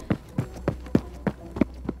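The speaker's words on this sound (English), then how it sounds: "the princess ran to the door" Quick running footsteps of a princess hurrying across a palace floor to the door, about eight light, evenly paced steps at moderate distance, with no talking.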